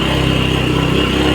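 A motorcycle carrying two riders labours loudly uphill, its engine drone steady and throaty, close up with no talk.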